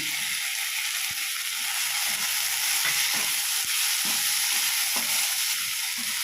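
Onion, ginger-garlic paste and chopped tomato fry in a pan while being stirred, a dense continuous sizzle with soft scraping strokes every second or so, close by and alone.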